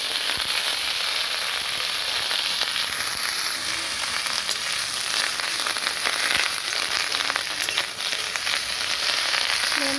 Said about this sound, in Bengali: মশলাগুলো একটু ভাজা ভাজা হয়ে আসলে তাতে এবার লাউয়ের পাতাটা দিয়ে দেব